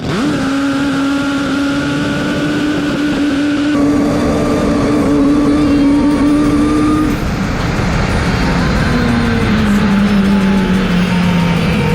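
The nitro drag racing motorcycle of Matheson, at a Perth drag meet, holds a loud, close engine drone with steady harmonic tones that shift pitch partway through and then bend downward near the end.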